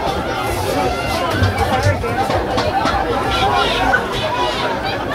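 Crowd chatter at a senior boys rugby final, a steady babble of many voices filling the air close by throughout.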